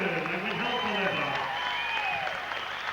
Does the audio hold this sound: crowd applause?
yes